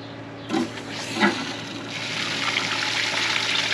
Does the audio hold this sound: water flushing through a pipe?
yes